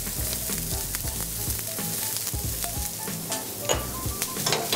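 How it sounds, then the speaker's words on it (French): Shallots and minced garlic sautéing in a drizzle of olive oil in a frying pan, a steady close sizzle with occasional pops and stirring, no voices. "Et on fait sauter le tout jusqu'à ce qu'elle soit translucide."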